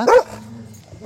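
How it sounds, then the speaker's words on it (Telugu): A single sharp sheepdog bark up close, followed by a low hum and quiet. "ఇక్కడ వీళ్ళకి 3 కుక్కలు ఉన్నాయి."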